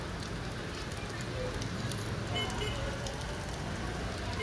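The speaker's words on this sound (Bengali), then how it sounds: "কি পরিমাণ বৃষ্টি দেখেন।" Heavy rain pouring outside a flooded school, a dense continuous hiss and patter of rain on surfaces, loud and steady throughout.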